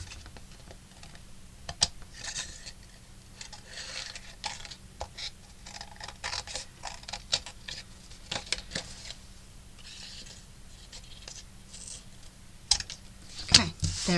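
Scissors snip around a paper cutout, with a string of small, quiet crisp clicks and rustles at uneven intervals through a soft room hum.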